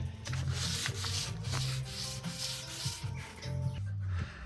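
Sandpaper rubs back and forth inside a campervan cupboard, a close, continuous rasping with a rhythmic push and pull that fades near the end.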